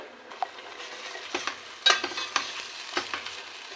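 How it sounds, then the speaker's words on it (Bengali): Onion, ginger and garlic are stirred and fried in a pan, with a soft sizzle under repeated scraping and clinking strokes from the spoon at irregular intervals, fairly quiet and close. "এটা একটু ভালো করে ভাজা করে নেবো যেন পেঁয়াজ আদা রসুনে কাঁচা গন্ধটা না থাকে"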